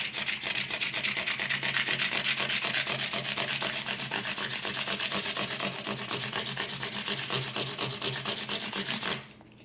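Steady rhythmic sandpaper rubbing back and forth over metal guitar frets on a neck, close and continuous for several seconds before stopping abruptly near the end.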